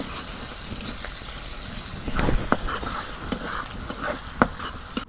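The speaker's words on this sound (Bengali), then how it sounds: "এলাচ দারচিনি দিয়ে দিলাম।" Cardamom, cinnamon and chopped onion fry in hot oil for a village-style chicken pilaf, a continuous close sizzle broken by repeated sharp stirring clicks and scrapes against the pot.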